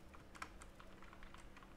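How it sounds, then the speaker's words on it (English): Fingers type on a computer keyboard in a steady patter of faint, quick key clicks over a low background hum. "I write with the keyboard"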